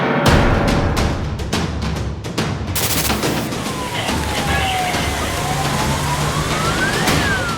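Sirens of an arriving ambulance and fire engine at a river rescue, a rising and falling wail sweeping over a sharp burst of clatter and steady rushing background noise.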